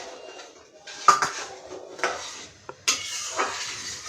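A spoon stirs homemade tomato sauce in a pot, making intermittent scrapes and metallic clinks against the pot at close range, with quiet gaps between the strokes.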